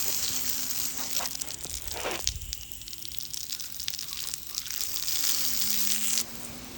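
Water runs and splashes over Smithfield clay shale artifacts as they are washed, a close gushing rush broken by brief scraping bursts and a steady low hum underneath.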